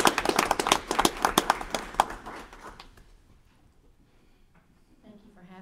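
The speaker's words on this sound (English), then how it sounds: "Let's give these innovative leaders a round of applause as they come to the podium." Audience applause at a school board meeting for grant-winning educators coming to the podium, a few seconds of close clapping that fades out, followed by quiet with a voice starting at the end.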